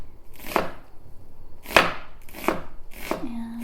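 A knife chops down through an onion on a cutting board in four sharp, separate strokes, each a crisp close thunk with a brief slicing rasp.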